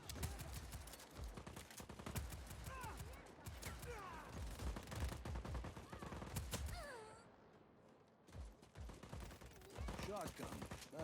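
Shotgun and other gunfire in the open-world action game Just Cause 4, with dense rapid blasts and explosions layered with game voices and effects, loud throughout and briefly thinning before resuming.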